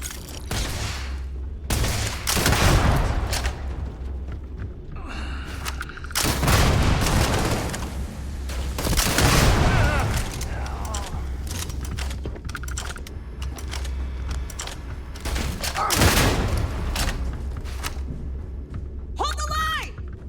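Gunfire in the video game Starfield, with repeated bursts of shots and heavy booming impacts that keep coming through a busy, loud battle. Other game noise runs underneath the whole time.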